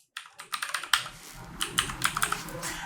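Keys clatter on a computer keyboard as a password is typed in, a quick irregular run of close, crisp clicks with no talking.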